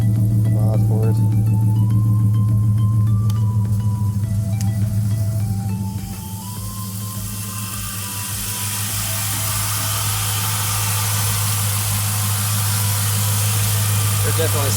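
A V8 Mustang with an LS engine swap and an aftermarket DT exhaust, sitting in neutral at idle, gives a steady, loud low rumble with a lumpy burble that dips slightly midway and then holds.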